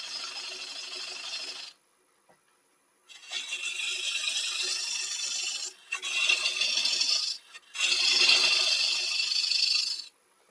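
A half-inch gouge cuts wood on a spinning lathe in four bursts of bright, rasping shaving noise separated by short silences, close and moderately loud.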